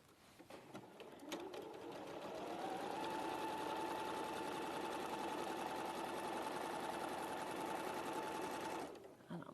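A sewing machine runs in one long continuous burst of stitching, speeding up to a steady, loud whir that holds for several seconds before stopping, with brief talk near the start.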